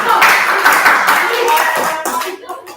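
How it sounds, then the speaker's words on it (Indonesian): A high school classroom breaks into loud, dense applause. Many hands clap steadily, then the sound thins out and fades over a few seconds. "Kita berikan aplaus dulu."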